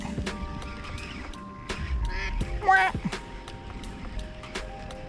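Ducks quack loudly and close by at a wooded Texas bass-fishing spot, a few harsh calls bunched near the middle while a person talks over them.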